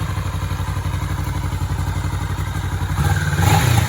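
A 2020 Kawasaki Vulcan 650 motorcycle engine idles close by with a rapid, even chugging pulse, briefly revving louder toward the end.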